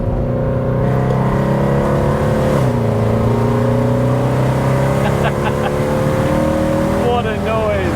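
A Mercedes W204 C63 AMG engine roars loudly from close range, its pitch dropping and jumping with throttle blips on each downshift, with a continuous driving drone underneath.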